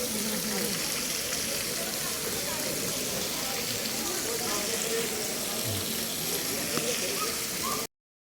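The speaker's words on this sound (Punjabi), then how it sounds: "ਕਬੂਤਰ ਦੇਖੋ ਕਿਵੇਂ ਇਸ਼ਨਾਨ ਕਰ ਰਿਹਾ" A pigeon bathes in water at the Jag Mandir island palace in Udaipur, making a continuous rushing, splashing wash of sound at moderate loudness.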